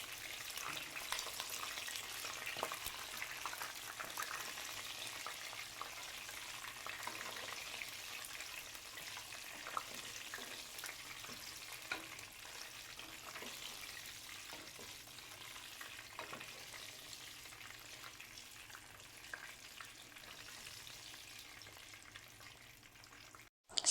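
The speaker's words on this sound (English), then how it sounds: "we are going to stir fry the eggplants with these for around 8 to 9 minutes" Eggplants stir-fry in a pan over a low to medium flame, a steady soft sizzle running throughout with occasional faint scrapes of stirring, close and even in level.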